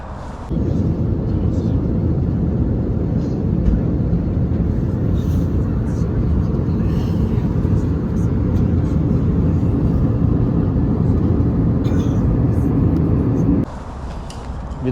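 Steady broadband drone of an airliner cabin in flight on a trip to Tampa, Florida, a continuous loud rumble that holds evenly for about thirteen seconds before dropping slightly at the end.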